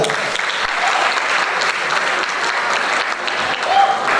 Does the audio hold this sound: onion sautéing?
no